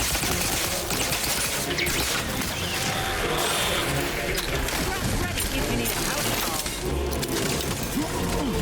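Rapid gunfire from a low-recoil gun in The Outer Worlds 2, a dense burst of shots with crashes and impacts running steadily throughout, loud and close.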